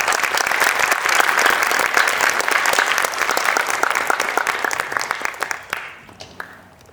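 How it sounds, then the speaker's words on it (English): An audience at a Bharatanatyam arangetram gives a round of applause for the dance guru, dense hall clapping that holds steady for several seconds and then thins out to a few scattered claps. "Please give her a round of applause"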